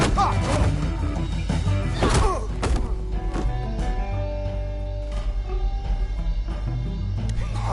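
A glass table smashes in the Batman Telltale Series game, a loud crash with a heavy thud around the two-second mark over a constant game soundtrack.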